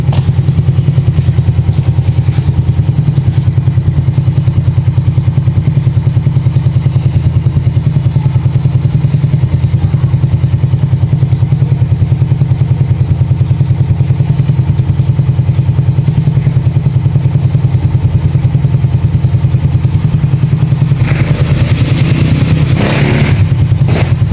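A two-year-old 2022 Honda Smash motorcycle engine idles steadily and loudly throughout with a low, even rumble, picking up some rattling clatter near the end.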